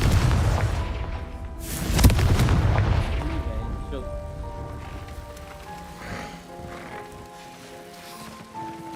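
The Confringo spell from the Hogwarts Legacy video game sets off a deep, booming explosion. A long rumbling tail follows with crackling debris, while game music and a faint voice carry on underneath.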